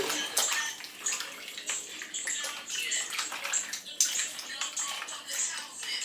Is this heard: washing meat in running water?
yes